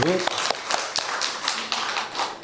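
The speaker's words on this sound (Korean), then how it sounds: "우리 격려의 박수, 또 환영의 박수" A church congregation claps in welcome, individual claps sounding as distinct taps in an irregular rhythm that gradually fills in, moderately loud in a large room, with a voice briefly audible at the start.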